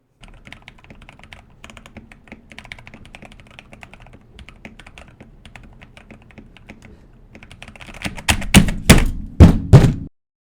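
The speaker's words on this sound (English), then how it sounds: "I love knowing that my switch is pressed with tactile feedback during gaming as well as typing" Rapid keystrokes on a mechanical keyboard with Naevy tactile switches click steadily and softly, then turn into a few louder, heavier thocking presses near the end.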